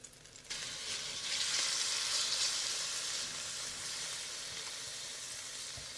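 Sirloin steak strips for beef stroganoff frying in a pan: after a brief quiet moment the meat hits the oil and a loud, steady hiss takes over, sizzling continuously and close up before easing slightly.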